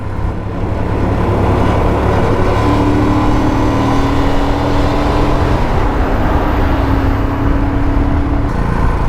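A Royal Enfield Himalayan motorcycle pulls hard to overtake on a smooth tarmac road, its engine droning loudly and steadily up close with rushing wind noise throughout.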